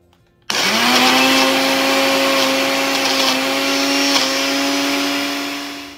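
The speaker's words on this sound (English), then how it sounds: "I'm going to pour it into my blender. Alrighty, now we're going to cover it and puree till it's smooth." Blender pureeing cooked sweet potatoes, starting abruptly after a moment of quiet and running as a loud, steady motor whine with a strong tonal hum, alone and close, easing slightly near the end.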